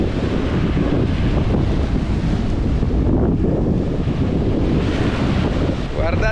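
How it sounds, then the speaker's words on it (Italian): Strong wind buffeting the microphone on a beach, a constant loud low roar with surf blending underneath. "Guardate che brutto vento che si mette in questa spiaggia ogni volta"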